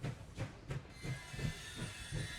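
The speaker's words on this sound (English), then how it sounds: "The train stops several dozens of meters before the station." Train slowing to a stop in the video game Last Train Home, with rhythmic low clacks of wheels on rail joints repeating about every third of a second, a steady hiss and a brief higher squeal early on.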